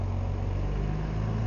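A flatbed Ram 3500 truck hauling a tractor rolls past close by with a steady, dense engine rumble that holds throughout, with no one talking.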